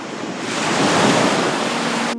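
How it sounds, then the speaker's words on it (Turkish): A sea surge roars as the Red Sea parts in an animated film, a broad rushing wash of water and wind that swells, holds loud and steady, then cuts off abruptly. "Musa Allah'ın emriyle asasını Kızıl Denize vurdu ve deniz ikiye ayrıldı."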